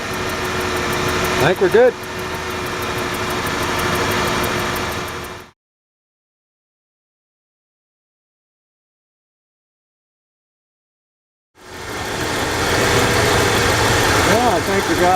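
A 1994 Ford F-150 with a 4.9L engine idles after a misfire repair, a low steady rumble with a slight hunt. The sound cuts out in the middle and then resumes, and a voice is heard briefly.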